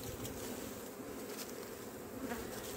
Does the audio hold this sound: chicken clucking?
no